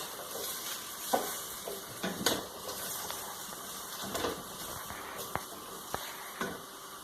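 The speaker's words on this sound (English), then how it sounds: "just put all your vegetables into the pan. Stir them around" Vegetables for red pepper and tomato soup sizzling in hot oil in a pan, a steady soft frying hiss under scattered taps and scrapes of a stirring utensil against the pan.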